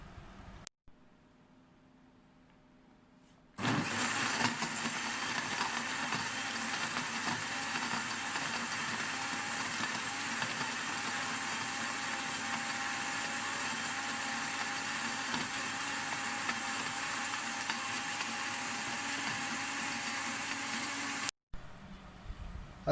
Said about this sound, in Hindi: अब इसको अच्छे से ब्लेंड कर लेंगे।